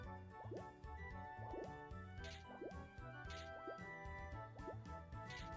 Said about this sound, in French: Il va balancer des Pokéblocs dans l'eau.